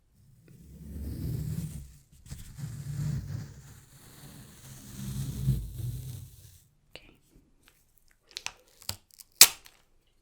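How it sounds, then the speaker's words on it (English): Close, quiet tape tearing off a roll during a soft-spoken ASMR session, first rustling under low murmured talk, then a few separate sharp rips near the end, the last one loudest. "So I'm going to prepare some of the tape first."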